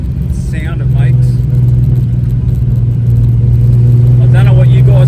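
Holden Torana engine running roughly with a carburettor fault, a loud, steady low rumble that stays constant for several seconds close to the microphone, with faint brief sounds over it.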